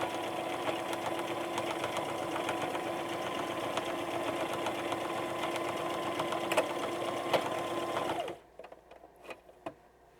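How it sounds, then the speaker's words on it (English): A sewing machine stitches continuously through a quilted fabric panel for a pencil pouch for about eight seconds, then stops, followed by a few faint clicks and handling noises. "Notice I'm sewing on the front side of each one of the ones that is a peach color"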